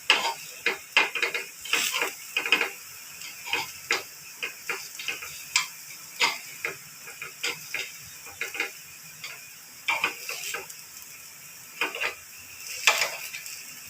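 Semolina banana fritters roast in ghee in a pan, giving a faint background sizzle broken by many sharp clicks and taps as the pieces are turned one by one.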